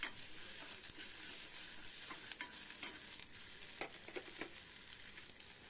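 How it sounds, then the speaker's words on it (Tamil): Bitter gourd, rock salt and other ingredients sauté for pavakkai puli kulambu, making a steady, moderate sizzle in a pan. Occasional stirring scrapes and taps cut through the sizzle, and no one speaks. "போட்டு நல்லா வதக்குவோம்."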